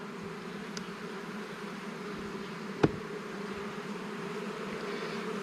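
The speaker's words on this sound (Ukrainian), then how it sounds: "Дивіться, я навіть трішки струшу бджіл, щоб вам наглядно показати." Honey bees buzz on a honey-laden hive frame as a beekeeper prepares the nest for winter, a steady, even drone held at moderate distance throughout, with one brief tap midway and no voices.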